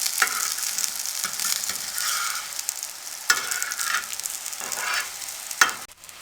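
Makki ki roti cooking in ghee on a tawa over low flame, with a steady close-up sizzle and frying crackle that swells in a few louder bursts across the clip, no talking.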